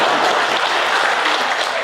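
An audience at a book launch program breaks into full, continuous applause, with thick, even clapping from start to finish and no voices standing out.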